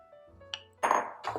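Bite-sized Yukon Gold potato pieces dropped into a pan land in two clattering bursts with a few light knocks before them, close and fairly quiet.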